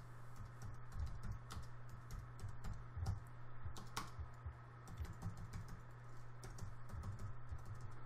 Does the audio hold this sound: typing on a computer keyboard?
yes